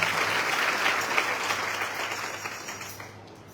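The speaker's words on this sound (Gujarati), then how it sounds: "સૌથી પ્રથમ એકવાર જોરદાર તાળીઓથી આપણે એમનું સ્વાગત કરીએ" A crowd at a Swaminarayan religious gathering in Gadhpur claps loudly and steadily to welcome an arriving Maharaj, the dense applause thinning and fading toward the end.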